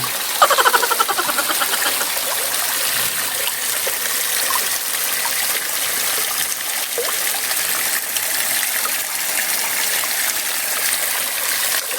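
Steady rushing and trickling of a stream flowing continuously, close by, with no voices over it.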